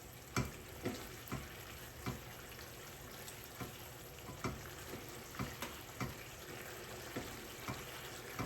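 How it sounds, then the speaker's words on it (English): A thickening mapo tofu sauce bubbles and sizzles softly in the pan. Stirring scrapes and taps recur at irregular intervals, fairly quiet and close, with no voices. "Give that a stir. Let that really get to a boil."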